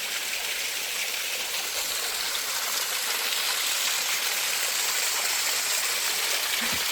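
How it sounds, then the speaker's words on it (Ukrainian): A constant, loud roar of a waterfall among rocks, a dense hiss that holds steady throughout with no other sounds. "Водоспад."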